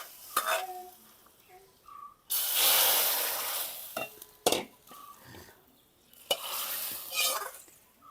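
Mustard seeds crackle and sizzle in hot oil while a pan is stirred, with bursts of bright frying noise between short clinks of a utensil and quieter gaps, close by.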